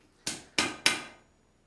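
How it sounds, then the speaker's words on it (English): Three loud, evenly spaced metallic strikes ring out as a hammer hits a blade on an anvil while a letter opener is forged, each blow sharp and bright with a short ringing decay. "whenever I'm hammering my blade, I've got my handle actually off of the anvil"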